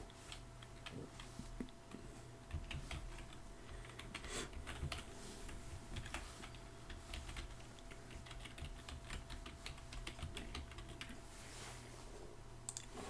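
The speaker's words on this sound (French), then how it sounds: "On va taper notre email." An email address being typed on a computer keyboard, a quiet, steady run of close key clicks over a low electrical hum, with no one speaking.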